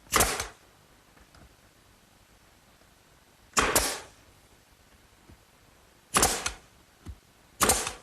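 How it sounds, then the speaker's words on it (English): Coffee table panels fastened with 1¼ inch nails, four sharp, loud percussive shots at irregular intervals, each with a short ring-off, separated by near silence. "I'll fasten it in place using a couple 1¼ inch nails at each location"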